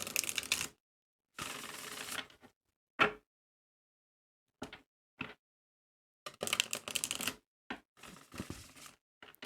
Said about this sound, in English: let me shuffle some of these oracle cards